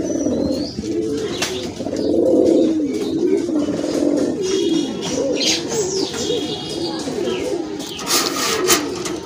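Satin pigeons, including a blackless satinette, coo repeatedly in low, rolling phrases, near and fairly loud, with a few higher chirps and some rustling in between.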